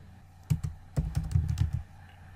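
Quick bursts of typing on a computer keyboard, a short run of close, crisp key clicks with brief pauses between them, with no talk over it.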